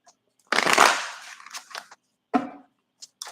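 A burst of card shuffling riffles close by, followed by a few shorter flicks and taps.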